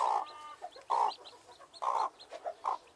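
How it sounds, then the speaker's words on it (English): Hens and chicks on an allotment clucking close by in short repeated bursts, a few louder calls spaced across the moment with soft peeps between. "There's the chicks."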